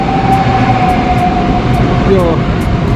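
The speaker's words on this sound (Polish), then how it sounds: "Przed chwilą wjechał pociąg Intercity." An Intercity train pulls into the platform at Będzin Miasto station in Poland, giving a steady close rumble with a thin sustained whine and a brief squeal near the end, while people talk over it.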